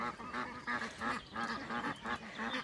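Young geese and ducks on a farm, around a month to six weeks old, mixed Allier white birds, give a rapid chorus of overlapping honks and peeping calls, close and continuous.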